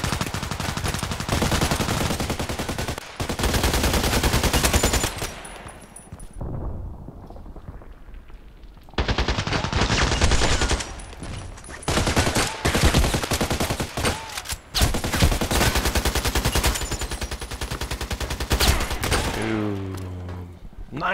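Gunfire in the ADXsniper video game comes as loud, dense bursts of rapid automatic shots with heavy blasts, broken by brief lulls, continuing nearly nonstop for about twenty seconds.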